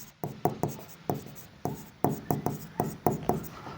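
Chalk or marker writing a closing stock figure on a board, quick tapping strokes and short scratches in uneven bursts, close and fairly faint.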